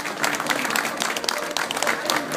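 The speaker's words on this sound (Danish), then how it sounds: "Vi giver dem en ordentlig klapsalve og siger tak for deres indsats." A crowd at a fashion show applauds the models, producing loud, sustained clapping with a busy, crackling texture and faint voices mixed underneath.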